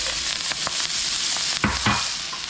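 Cabbage stir-frying in a very hot wok after bacon, with a steady sizzle and several sharp stirring scrapes and tosses bursting out above it.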